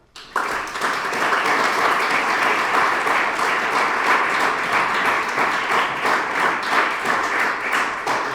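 Dense, steady audience applause at the 2016 ATN Awards ceremony in Salzburg, starting sharply after a brief pause and holding at an even, loud level for several seconds with no voices on top.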